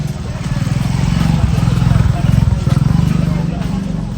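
Motorbikes pass along an island road near a beach, their engines giving a loud, rough, pulsing rumble with a brief swell as each one goes by, and people talk close by.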